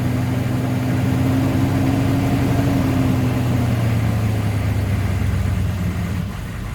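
A 1996 6.5L diesel engine runs steadily with its transmission in gear, a continuous low, even drone with a faint rumble that holds level throughout, close by and heard alone without talk.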